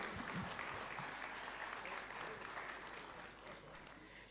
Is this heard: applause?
yes